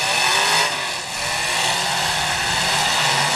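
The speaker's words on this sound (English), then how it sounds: "I'm really hearing the motors through the speakers." Race car engines roar continuously and loudly at a close-range drag racing event, a dense sustained motor drone with slight dips in intensity, no talking.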